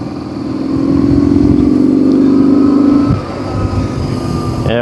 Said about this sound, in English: Yeah, but listen to this engine.